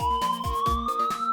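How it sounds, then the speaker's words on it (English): A cartoon ambulance siren wails loud and close, a rising tone with rapid rhythmic pulses repeating over a short stretch. "Ambulance."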